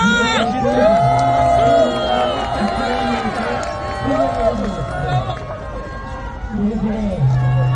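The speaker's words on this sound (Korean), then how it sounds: "박수 한번 칩시다" Chungnam National University students at an anti-impeachment rally cheer and shout together, a loud crowd of overlapping raised voices with whoops rising and falling; distinct claps are not clearly picked out.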